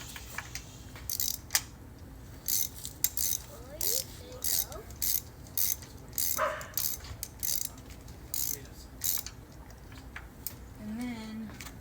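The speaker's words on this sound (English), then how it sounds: "So let's take these spark plugs out. So you'll need a 16 millimeter socket." A ratchet with a 16 mm socket works spark plugs out of a 2008 Scion tC engine, giving repeated short bursts of clicking with pauses between them and some faint background noise.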